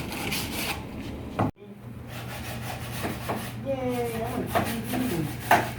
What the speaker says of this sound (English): Okay, so that's what he's going to do right now. Sand it down.